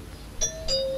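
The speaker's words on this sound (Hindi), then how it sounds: "अरे घंटी बज रही है।" A doorbell at home rings with a two-tone ding-dong, the second note ringing on and fading slowly, clear and close over a low background hum.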